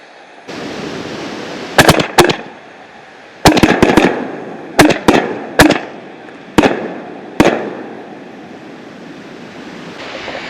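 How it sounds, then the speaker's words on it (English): A Mississippi Gambler "Best Deal" mortar rack fires outdoors, a rapid series of sharp loud booms and cracks in clusters, with a hissing wind-like roar filling the gaps between launches. "Now it's time for the mortar rack."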